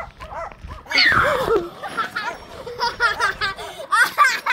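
A dog barks and yips in short, repeated bursts close by on an outdoor walk, mixed with excited vocal sounds.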